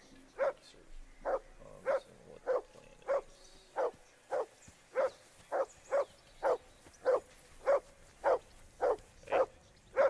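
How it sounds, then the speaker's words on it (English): A dog in the medieval game Kingdom Come: Deliverance 2 barks steadily, about seventeen evenly spaced barks over ten seconds, close and clear with no talk over them. "Call off that mutt of yours!"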